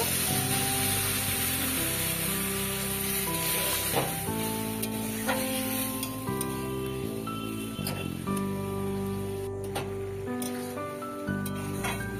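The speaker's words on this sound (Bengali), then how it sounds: "এখন জল দিয়ে দেব" Water is poured into a hot pan of frying potatoes for a potato chutney, producing a continuous hissing, crackling sizzle like rain on a surface, steady and close, under background music.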